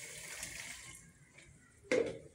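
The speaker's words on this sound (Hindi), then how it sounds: "पानी डाल रही हूँ मैं इसके अंदर" Water is poured into a falsa juice mixture, a short liquid splash and trickle that stands alone with no talk, close and moderately loud.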